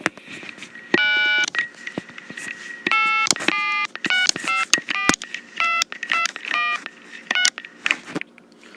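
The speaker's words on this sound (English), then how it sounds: "Okay, that's what DTMF dialing sounds like." Touch-tone DTMF keys are pressed on a Southwestern Bell FM-2552/FM-2000 corded trim line telephone: about a dozen loud, close tone bursts in an uneven rhythm of short pauses and quick runs, with no talking.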